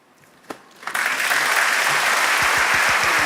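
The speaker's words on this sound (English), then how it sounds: "The golf applause." Audience applause at the Polar Music Prize award ceremony, starting with a few scattered claps and swelling within a second into loud, sustained clapping from a large crowd.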